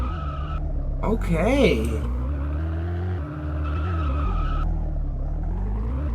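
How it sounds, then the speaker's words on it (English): A car drifting in Roblox Vehicle Simulator, a steady engine drone with a rising, wavering tire squeal partway through, loud and continuous, with someone speaking briefly over it. "didn't even hold the handbrake and it just starts drifting"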